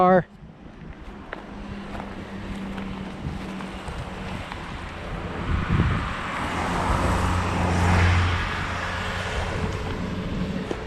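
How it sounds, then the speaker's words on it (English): Passing car on a road heard outdoors with wind buffeting the microphone, the engine and tire noise swelling to a peak and fading. "Car."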